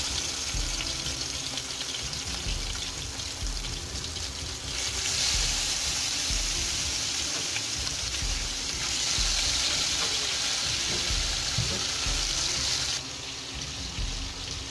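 Shrimp frying in hot oil for a Bengali shrimp and tomato bhuna, a steady close hiss with brighter sizzling surges as pieces go into the pan, no talking.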